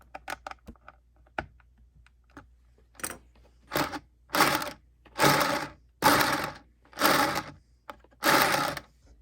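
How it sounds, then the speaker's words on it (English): Screws being driven to mount a spinning base onto the top of a dome and into its bearing, first as light scattered clicks, then six loud, evenly spaced bursts of whirring driver noise close up with no talk. "Now take 3 more screws and mount the spinning base to the top of the dome into the bearing."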